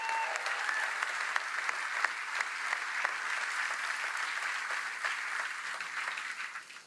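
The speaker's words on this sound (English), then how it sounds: "let's give all these workers one more big round of applause" A large audience claps in sustained applause for Ford workers at a Kentucky event, dense and even throughout before tapering off at the end.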